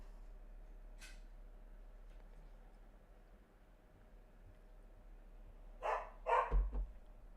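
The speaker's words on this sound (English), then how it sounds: "Dog's barking." Domestic dog barking indoors: a quiet room with one faint early yip, then two or three loud, sharp barks close together near the end.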